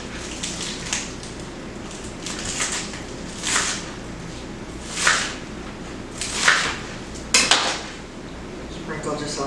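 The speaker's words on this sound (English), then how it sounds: "we're going to cut up some green onion" Green onion being chopped with a knife on a cutting board for an Instant Pot broccoli and beef dish, a handful of separate crisp knocks and scrapes spaced a second or two apart over a low kitchen background hum.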